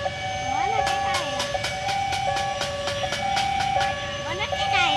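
A train rolls slowly past right in front of a house, its repeated wheel clacks and squeals rising over a steady rumble, with a sustained tonal hum and people talking nearby.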